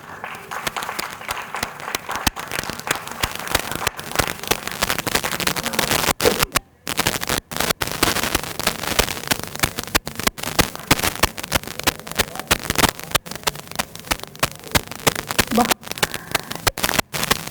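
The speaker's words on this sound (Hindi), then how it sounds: "जोरदार तालियों के साथ स्वागत कीजिए।" An indoor audience at an annual storytelling and arts festival gives a loud, sustained round of applause to welcome a performer, thick clapping running continuously with a few brief dips.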